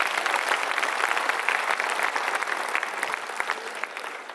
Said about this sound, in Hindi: आप सब जोरदार ताली बजाएं